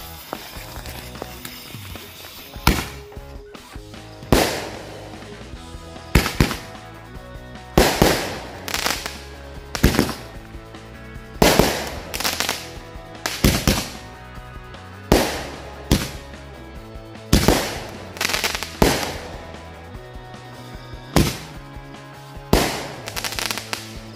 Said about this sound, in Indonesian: selanjutnya kita nyalakan mercon Roman candle yang 8 lesutan. Ini 2 buah sekaligus ya.